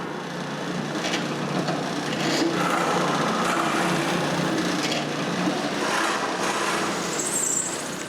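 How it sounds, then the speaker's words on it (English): A power drill boring screw holes into wood for a closed bookcase build, a steady whirring grind lasting throughout with slight surges in pitch and intensity, close and fairly loud, no talking. "Now I need to drill some holes for the screws."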